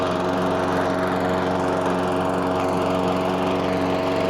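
A self-propelled lawn mower drives itself up a small slope, its engine holding a loud, steady, high-revving drone from start to finish with no other sounds over it.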